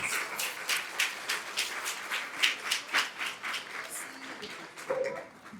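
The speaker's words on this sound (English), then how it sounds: "Let's give ourselves a round of applause." Applause from a small audience at a women veterans' event, rising and falling in uneven bursts of clapping that taper off near the end.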